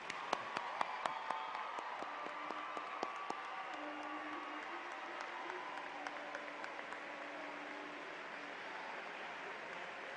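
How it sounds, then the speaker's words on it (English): A graduation audience at Georgia Southern University's fall ceremony breaks into loud, sustained applause, dense clapping filling the hall from start to finish, with sharper individual claps standing out early on. "Let's give them all one more round of applause."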